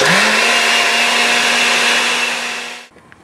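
A blender whirs loudly and steadily through an onion, ginger and garlic mixture, holding an even motor pitch for almost three seconds before cutting off abruptly, with no talking.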